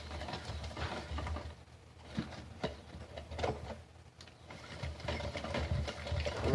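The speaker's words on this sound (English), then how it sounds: "Now while I'm reeling, since I put it in there sideways there, it's just a spinning." A fishing reel is cranked and its spool spins, giving a whirring mechanical rattle with ticking clicks that speeds up and slows, close and moderately loud with no speech.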